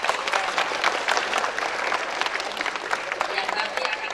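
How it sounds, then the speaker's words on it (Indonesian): Audience applause at a school flag ceremony for Pancasila Day at an Islamic senior high school, a steady, dense clapping from a large crowd that carries on throughout, moderately loud and outdoors-sounding. "Tepuk tangan."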